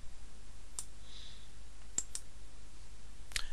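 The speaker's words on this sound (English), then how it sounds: "I'm just going to simply click on the sign in button at the top." Computer mouse clicking a sign-in button on a website, a few sharp isolated clicks spaced apart over quiet background hiss, close and distinct, no talk.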